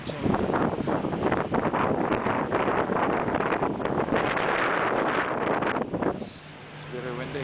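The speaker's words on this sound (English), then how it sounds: "It's very windy." Strong wind buffets the microphone in a steady, loud roar for most of the clip, at a dock in Willemstad, Curaçao, easing slightly near the end as a low hum comes through.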